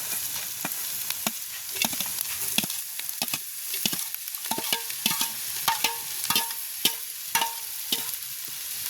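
Fried vegetables are stirred into a simmering pot in a village kitchen, with a spoon scraping and tapping the sides in an irregular rhythm over a constant soft sizzle, close up and without voices.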